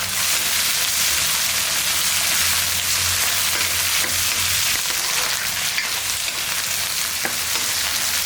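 Small shallots frying in an oil-filled pan with a few coriander leaves, a steady dense sizzle running throughout without pause, close and fairly loud, with occasional faint stirring clicks.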